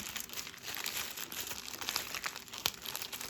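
Nail foil crinkles and rustles in quick, dense crackling bursts close by, fairly quiet, with no speech.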